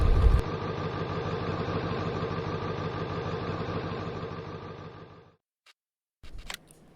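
An old truck engine in Farming Simulator 19 idles with a steady low rumble for several seconds, then cuts off, followed by a few faint clicks.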